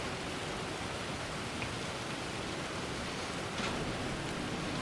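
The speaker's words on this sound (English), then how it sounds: "there's the rain" Steady rain hiss in the Planet Coaster 2 theme park game, a soft, even wash of falling drops that continues unbroken and fairly faint.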